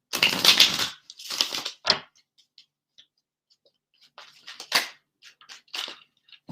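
Tarot cards being shuffled by hand in a quiet room, giving soft bursts of papery riffling and tapping that stop and start irregularly, with scattered small clicks between the bursts.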